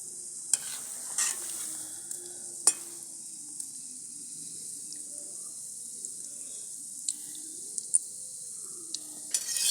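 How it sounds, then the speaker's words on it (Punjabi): Gulab jamun fry in a pan while being stirred slowly, giving a soft continuous sizzle with occasional light scrapes and clicks of the spoon, fairly quiet throughout. "ਇਸ ਤਰ੍ਹਾਂ ਆਪਾਂ ਹੌਲੀ ਹੌਲੀ ਹਿਲਾ ਦੇਾਂਗੇ"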